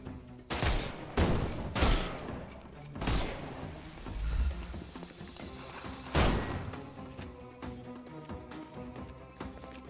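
Gunfire in the PS5 game Sherlock Holmes: Chapter One, with several loud broadband shots and impacts in the first two seconds and again near six seconds over a busy game soundscape, no talk.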